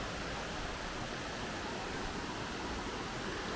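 Steady broadband rush of a mountain creek flowing in the Great Smoky Mountains, a continuous close water sound with no talking.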